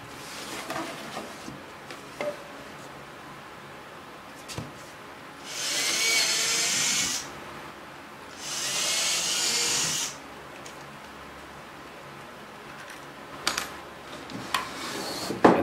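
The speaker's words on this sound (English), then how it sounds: "To fasten the side support pieces to the back, I first pre-drilled holes in the back." A drill bores pilot holes through the back of a tenor guitar in two separate bursts of about one and a half seconds each, close and whirring, with light taps and handling noise around them.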